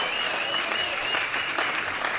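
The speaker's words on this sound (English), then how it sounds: "let's give Randy a round of applause" An audience gives the sound man a brief, dense round of applause, steady clapping that stays even throughout.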